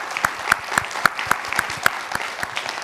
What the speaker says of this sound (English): I'd like to give a rousing round of applause to our panelists